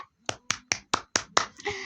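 Six sharp hand claps in a steady rhythm, close and distinct with short silent gaps, at a wedding-preparation gathering, followed by a brief rustle.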